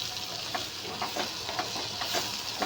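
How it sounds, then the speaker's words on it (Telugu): Onion, cumin, curry leaves, mint and a little turmeric frying in oil, a continuous soft sizzle with periodic stirring scrapes at a steady rhythm. "జీలకర్ర, పసుపు కొంచెం ఇవైతే నేను ఆయిల్లో ఫ్రై చేసుకుంటున్నాను"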